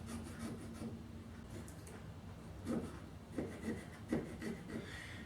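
Woodworking hand tools chisel and scrape at a pumpkin in a quiet shop, with soft rubbing strokes that build into a few sharper, louder cuts toward the end.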